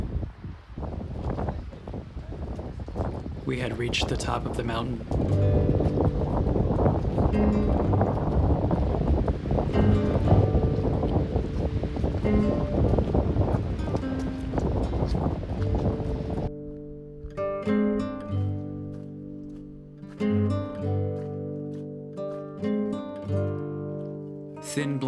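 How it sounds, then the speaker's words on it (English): Strong, roaring wind gusts buffet the icy summit of Mount Le Conte, reached via the Alum Cave Trail, under a narrator's voice before gentle music takes over. "a gentle breeze emerged from the hills, slowly building into large gusts of wind"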